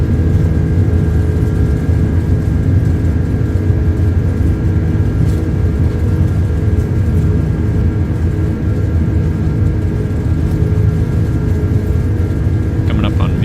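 A Microsoft Flight Simulator airliner on its takeoff roll, a loud, steady engine roar with a low rumble that holds for the whole stretch while a man calls out speeds and the rotation.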